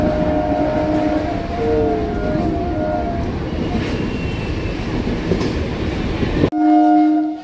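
An Up Krishnanagar local train speeds through Palpara station's island platform without stopping, its loud rumble and clattering wheels close by, with horn tones sounding through the pass and blaring again near the end.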